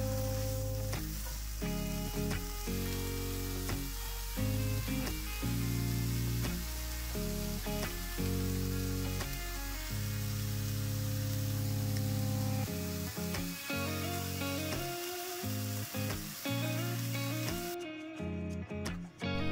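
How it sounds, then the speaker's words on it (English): Ham and broccoli filling for a puff pastry pocket cooks in a pan with a steady, soft sizzle, partly masked by continuous background music with clear melodic notes throughout. "Give it a stir and then add salt and pepper to taste. Cook until warm."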